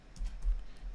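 Keys tapped on a computer keyboard while a command is entered in a terminal to run Python code, a few quick close clicks in a short burst over low room hum, no talking.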